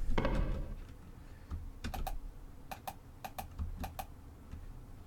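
Computer keyboard keys clicking nearby in short irregular bursts, a heavier clack at the start followed by sparse light taps with pauses between, over a faint room hum.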